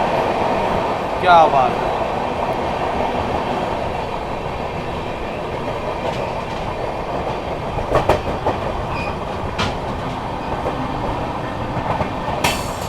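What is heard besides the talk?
Vikramshila Express train passing Tundla Junction at speed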